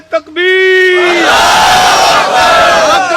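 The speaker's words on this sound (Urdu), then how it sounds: "نعرے کا جواب تو سنیں آپ" Large crowd roaring a loud, sustained chanted response to a religious slogan at a gathering, voices swelling together after a brief lead call and holding for several seconds.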